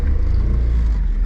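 A Honda kei car drives along with a steady, loud low engine rumble and road noise, close and continuous.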